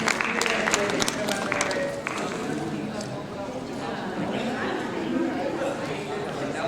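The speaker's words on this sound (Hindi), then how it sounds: "तालियों के साथ अभिनंदन, अभिवादन।" An audience at a literary award and felicitation ceremony gives scattered applause, brisk clapping at first that thins into a murmuring crowd and background chatter.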